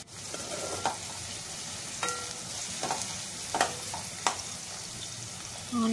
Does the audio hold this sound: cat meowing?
no